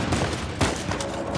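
Gunfire in the action game Uncharted 4: A Thief's End, a dense, sustained burst of shots with one sharper crack standing out midway, all loud and close throughout.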